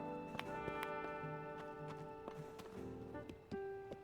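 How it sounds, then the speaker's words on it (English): A horse in the Zelda Tears of the Kingdom video game clip-clops away at a gallop, quick hoof taps over light game music, at moderate level with no talk. "Let me get off this horse for a second. Hopefully it won't leave. It immediately bolts."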